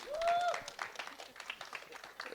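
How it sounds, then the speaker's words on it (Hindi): An audience at the Jatt & Juliet trailer launch applauds Diljit Dosanjh, scattered clapping and crowd noise fluctuating in intensity, with a brief whistle-like tone near the start. "एक बार तालियां हो जाए"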